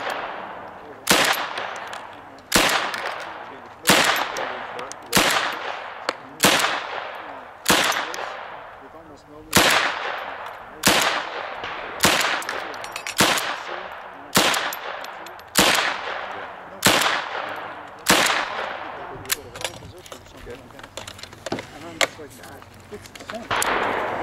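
Gunfire from a USFA Zip22 .22 rifle at an outdoor range: about eighteen loud, close, sharp reports fired at a steady pace of roughly one per second, each ending in a short decaying ring.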